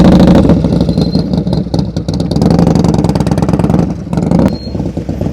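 A motorcycle engine during slow-speed riding practice at night, held at a steady, loud, close throttle with small surges and dips in revs throughout.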